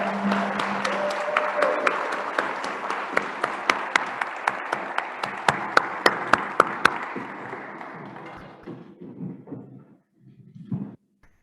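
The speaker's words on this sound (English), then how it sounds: "Can we get another round of applause for our amazing Burbank band?" An audience applauds a high school band at an evening community meeting in a hall, a dense steady clapping that fades out over several seconds, with a few louder individual claps standing out.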